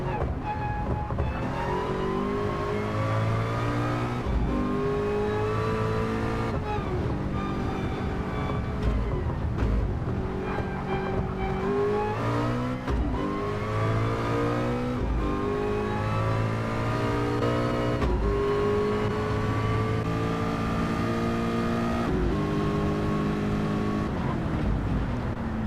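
Race car in Gran Turismo 7 climbing steadily back up to speed with rising, sustained engine revs and gear changes, loud and continuous with no talk.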